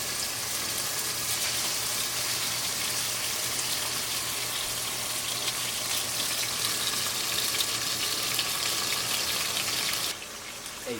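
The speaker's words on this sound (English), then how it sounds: "let it sizzle." Chicken sizzles in a hot pan, a bright crackling hiss with a faint low hum beneath, held steady before dropping away near the end; no one speaks.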